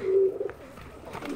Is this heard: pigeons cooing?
yes